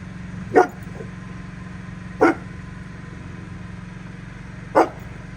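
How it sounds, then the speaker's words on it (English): Three single dog barks spaced a couple of seconds apart, fairly close and sharp, over a steady low engine-like hum from a building generator test. "you'd be able to bark better if you drop your ball"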